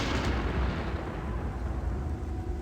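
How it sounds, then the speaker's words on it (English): Chain lightning spell effect from the game Gothic II: a dense, roaring crackle of electric discharge, loud and continuous with a sharp onset and a broad rumbling body throughout, no voices. "Yeah, it's chain lightning."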